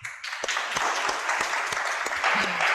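Continuous, fairly close applause with a few sharper claps standing out from the steady wash, and no one talking over it.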